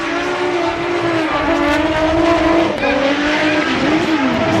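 Formula Drift race cars run in a tandem drift chase at a Japan round. Loud engines hold a high rev with shifting pitch while tires squeal, and the sound is close and continuous.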